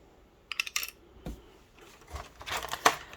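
Small doll-scale toy scissors are handled quietly up close, with a few light snips and clicks scattered irregularly against near silence.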